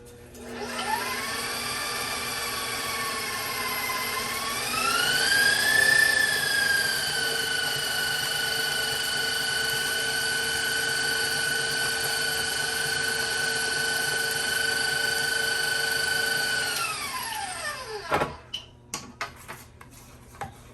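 An electric hand mixer whirs steadily through pumpkin roll batter, a loud continuous motor hum that rises in pitch midway, holds, then winds down and stops, followed by a few light clinks.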